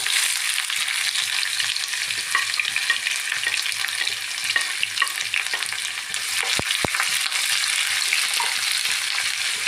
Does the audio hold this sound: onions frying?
yes